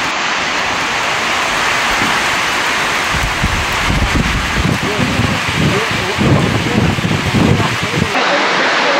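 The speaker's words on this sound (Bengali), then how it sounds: "অতঃপর ঝমঝম বৃষ্টিতে ভিজে গেল সুখিয়া ভ্যালি" Heavy rain pours down with gusting wind at Sukhia Valley, a dense, loud, steady roar with low rumbling surges, close and unbroken from start to end.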